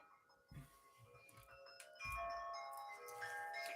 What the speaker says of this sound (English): my mom's like ringing the bell